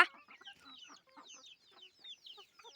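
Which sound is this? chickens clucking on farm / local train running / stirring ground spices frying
chickens clucking on farm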